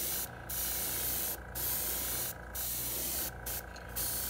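An airbrush sprays gold paint onto a custom walleye fishing lure in short bursts. There are four or five close, loud hissing passes, each about a second long, separated by brief pauses.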